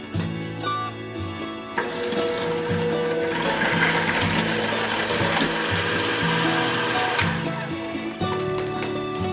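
An electric mixer whirs steadily while beating rhubarb cake batter, close and continuous for about nine seconds. The motor pitch shifts slightly as the blades work through the mix, with faint mechanical rattling and no talk.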